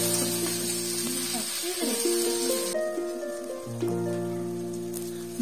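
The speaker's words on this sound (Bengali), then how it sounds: "তারপর পরিমাণ মতো পেঁয়াজ কুচি, কাঁচা লঙ্কা কুচি দিয়ে নেড়ে নিচ্ছি" Chopped onions and green chillies sizzle in hot oil in a pan, a steady dense crackling hiss throughout, with tonal background music layered over it.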